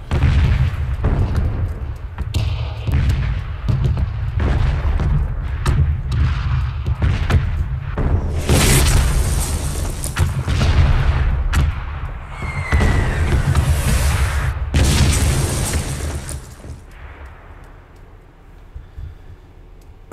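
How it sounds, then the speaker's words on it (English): Red zone bombardment in the PUBG video game sends loud, repeated explosions rumbling in overlapping bursts over about twenty seconds, then fading toward the end. "I do like the graphics of the explosions look nice"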